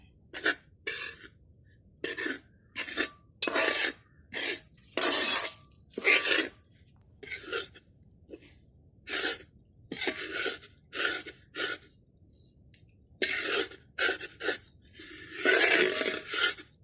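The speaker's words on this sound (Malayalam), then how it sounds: "ഞാൻ ഈ അരിവാള് ഉപയോഗിച്ചിട്ടാണ് ഇളക്കണത്" Rhythmic scraping strokes of a sickle stirring a dry rice-flour snack mixture in a pan, a string of short gritty rasps repeating about every half second, close up with no talk.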